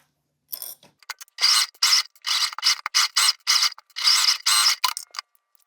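Domestic sewing machine basting around the edge of fabric for a crossbody sling bag, running in short bursts of rapid stitching with brief pauses between, close and fairly loud.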